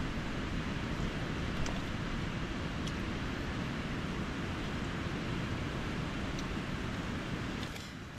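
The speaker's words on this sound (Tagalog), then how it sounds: "Kahit napakalakas ng hangin." Strong wind roars steadily across a remote campsite, a dense, unbroken rush of broadband noise buffeting close to the microphone and easing slightly only at the very end.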